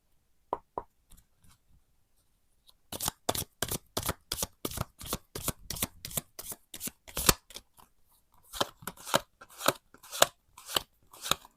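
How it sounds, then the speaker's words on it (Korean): Tarot deck handled up close: a few soft taps, then a long run of quick crisp card flicks and riffles, a short pause, and more brisk snapping shuffles, fairly loud with no voices. "보조 카드를 좀 한번 뽑아 볼게요"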